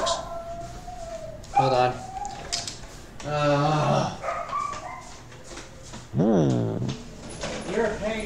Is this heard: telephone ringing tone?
no